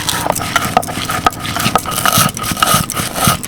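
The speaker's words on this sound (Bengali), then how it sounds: "এবার এটাকে আমি নামিয়ে নিয়ে গুঁড়ো করে নেব" Roasted spices for fuchka are ground to a coarse powder: a loud, continuous, gritty grinding with rhythmic rattling pulses, close up and with no voices.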